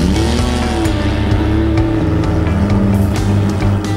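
A Toyota GT86 drift car's engine revs loudly and continuously up close, a steady droning growl with shifting pitch.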